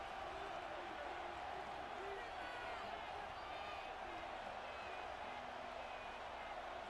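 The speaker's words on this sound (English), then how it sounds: "This crowd into it now as we get to 3rd down." A stadium crowd in the football video game Madden NFL 26 keeps up a faint, continuous roar at third down, a distant sustained murmur of cheering.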